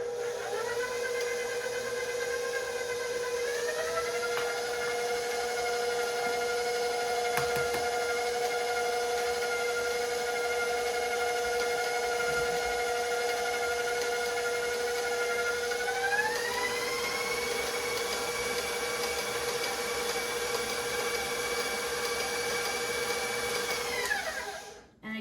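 An electric mixer beating eggs into cheesecake batter, a steady motor whine that holds one pitch and then rises to a higher speed partway through, continuous and fairly close before cutting off at the end.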